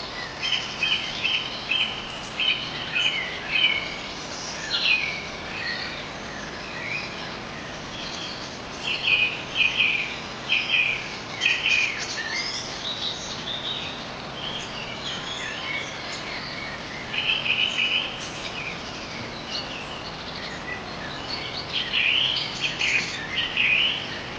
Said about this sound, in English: Peaceful, quiet, beautiful trees, birds singing, cicada beetles